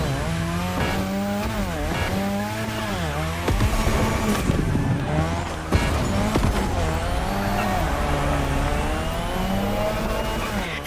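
Car drifting on the drift track in The Crew Motorfest video game: a high-revving engine that rises and falls over continuous tire squeal, loud and steady throughout, with no talking.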